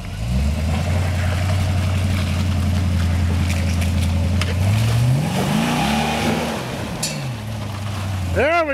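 An off-road vehicle on a trail at Walker Valley holds a steady low engine note, then revs and surges with rising and falling pitch as it climbs, while people call out over it.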